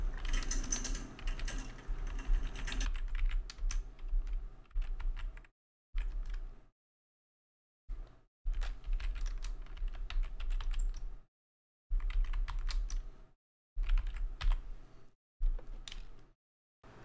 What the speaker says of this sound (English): And we'll just type that in here.